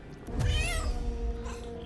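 A cat in Baldur's Gate 3 lets out a single drawn-out meow that rises and falls in pitch, fairly close and clear, followed by a softer trailing tone with no talking.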